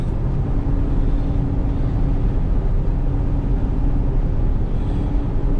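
Steady road noise and tire hum from all-terrain tires on a 2000 Ford Excursion 4x4 Limited with a V10, heard from inside the cabin as a constant, even drone with no talking.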